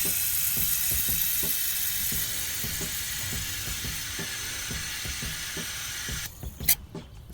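Cleaner sprayed through an LS1 fuel injector, pulsing in a rapid rhythmic clicking-hiss that runs steadily up close, ending in a few sharper bursts of spray.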